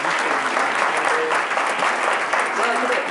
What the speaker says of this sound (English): let's give Gerard a round of applause